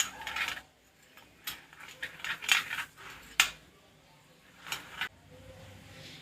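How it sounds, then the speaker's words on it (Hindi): Lemon juice and achar gosht masala paste being stirred in a bowl, with scattered light clinks and scrapes of a spoon against the dish, quiet and irregular. "अब इसको अच्छी तरह से मिक्स कर लूँगी"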